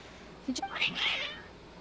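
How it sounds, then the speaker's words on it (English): Cats meowing in a video game, a short cluster of agitated, rising meows lasting about a second, fairly faint and alone. "Your cats seem pretty worked up."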